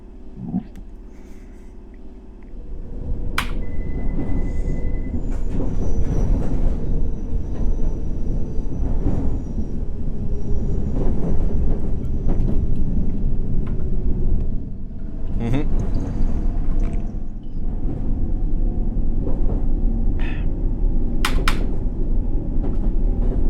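A London Underground Circle Line train rumbles steadily along in the World of Subways simulator game, a loud continuous low roar of wheels and motors with occasional squeals and clicks, starting from a quieter stop.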